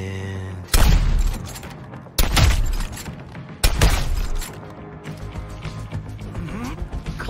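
Gunfire in the video game Suicide Squad: Kill the Justice League, three heavy bursts spaced about a second and a half apart, each ringing out over a softer mechanical and musical background.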